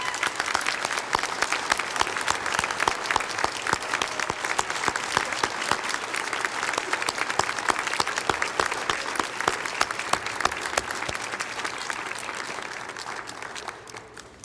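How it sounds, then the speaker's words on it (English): An audience at a King County reunification ceremony gives Judge Clark sustained warm applause, dense continuous clapping in a room that tapers slightly at the end. "give Judge Clark a warm round of applause"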